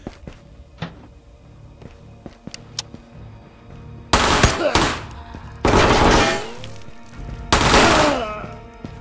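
Bursts of close, loud automatic gunfire in the VR shooter Ghosts of Tabor, three sharp volleys separated by brief pauses, over quieter earlier clicks, footsteps and handling noises.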